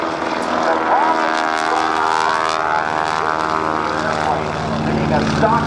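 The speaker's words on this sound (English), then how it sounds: "Now, when I say stock Stearman, it means it's got the small engine on it. 225 horsepower, going now into an 8-point hesitation roll." Continuous loud drone of a stock 225-horsepower Stearman biplane engine and propeller during an aerobatic hesitation roll at a naval air station airshow, with shifting tone and an announcer talking over it.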